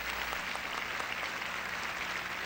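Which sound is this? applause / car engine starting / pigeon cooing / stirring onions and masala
applause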